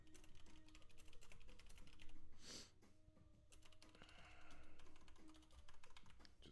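Steady keyboard typing as a message is written in a team chat channel, with fast clustered keystrokes running throughout and a short pause midway.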